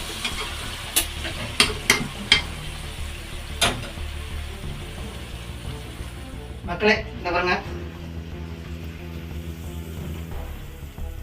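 Thick banana halwa with ghee, milk and sugar is stirred in a pan, a wooden spoon clacking against the vessel with soft sizzling underneath, close and moderately loud, while someone talks over it.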